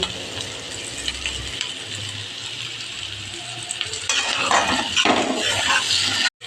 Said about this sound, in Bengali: এবার এগুলো ভালোভাবে নেড়ে নেব।